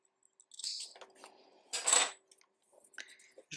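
Close, quiet scissor snip through crochet yarn, one crisp cut with soft handling clicks before and after.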